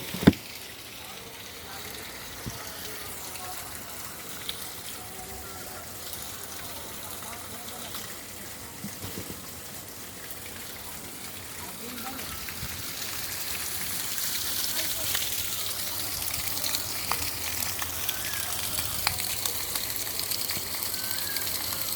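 Water gushes from a 1 HP submersible pump set 50 feet down, fed through 2-inch and 3-inch pipes. It makes a continuous rain-like splashing rush that grows louder and brighter over time, with a voice faintly present.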